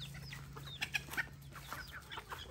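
Chickens cluck and squawk in short bursts while being chased in a yard, several sharp peaks standing out over a steady low hum, moderately close.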